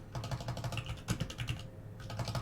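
Rapid, steady typing on a computer keyboard during an online card game session, brisk close-up key clicks with a brief pause near the end before the typing resumes.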